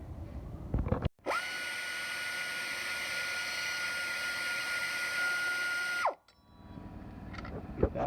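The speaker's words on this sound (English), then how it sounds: "you get it lined up with the bolt, you stick it on when it's spinning," A Snap-on air ratchet spins up sharply and whines in one sustained burst of about five seconds while loosening a bolt on an alternator pulley, close and loud, then winds down to quiet.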